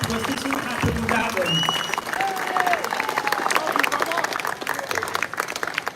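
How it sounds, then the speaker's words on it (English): Loud, dense applause from a crowd at a live For the Children campaign event in London, with some cheering and voices mixed in and a few whistle-like tones rising above the steady clapping. "let's have a big round of applause for everyone behind For the Children campaign in the building"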